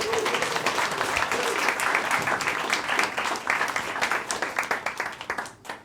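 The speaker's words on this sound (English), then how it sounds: "Give them a round of applause." An audience claps steadily in a dense burst of applause that thins into scattered individual claps before fading out.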